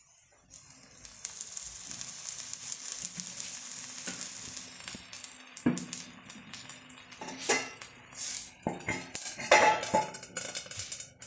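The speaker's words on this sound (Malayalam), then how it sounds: "നമ്മളിപ്പോൾ ഒഴിച്ചതിൻ്റെ മുകളിൽ കൂടെ അല്പം എണ്ണ ഇങ്ങനെ ഒഴിച്ചു കൊടുക്കാം" A fish omelette fries in oil in a pan, crackling and sizzling steadily up close, with clinks of a spatula and utensils scraping the pan and no voices.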